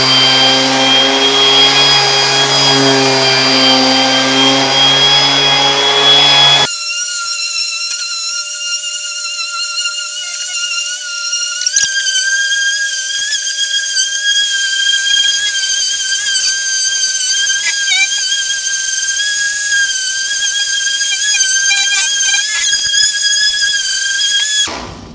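A Tacklife 1/2 orbital sheet sander runs close and loud, its steady high whine shifting pitch abruptly early on, then holding a constant buzzing tone for about twenty seconds before cutting off at the end.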